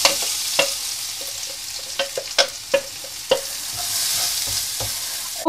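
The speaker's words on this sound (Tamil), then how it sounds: "அதில் இனி நம்ம அரைச்சி வச்சிருந்த அரைப்பை கொட்டிடும்." Ground spice paste tipped into hot oil with dried red chillies for a Nagarkoil fish curry, sizzling steadily while a spoon scrapes and stirs in sharp, irregular clacks against the pan.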